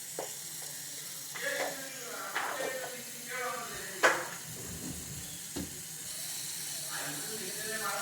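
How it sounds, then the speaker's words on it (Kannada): Butter from packet-milk cream melts in a pan for ghee, giving a soft, steady sizzling hiss beneath someone talking throughout, with a few light clinks of a utensil. "ಬೆಣ್ಣೆ ಎಲ್ಲ ಕರಗ್ತಾ ಇದೆ"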